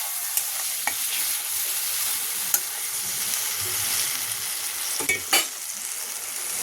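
Fried spice paste for a bhola fish curry sizzling hard after a little water is poured in, a bright continuous hiss with a few sharp clicks and spoon scrapes, close and alone.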